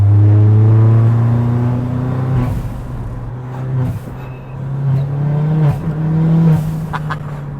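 Engine-swapped 350bhp Ford Fiesta ST work van on coilovers, heard from inside while driving: a steady low engine drone with a mild rumble that rises and shifts through gear changes, loud and close, with no pops or bangs.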